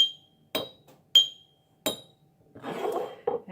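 Glass bottles tapped one after another in a classroom music lesson: three sharp, ringing clinks spaced apart, then a brief rattling, scraping knock and one more tap, close and fairly quiet.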